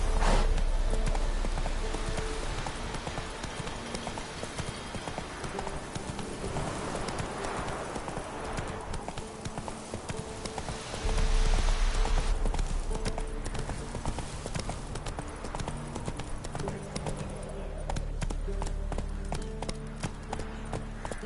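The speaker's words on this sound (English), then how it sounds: "Faster. Run, Roach" Hooves of a horse galloping in The Witcher 3 video game, a fast steady clip-clop rhythm running continuously for the whole stretch, loud and close among game ambience, with a brief voice calling out.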